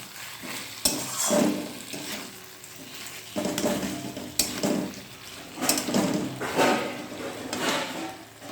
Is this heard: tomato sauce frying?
yes